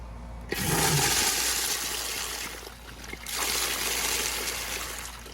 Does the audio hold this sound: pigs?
no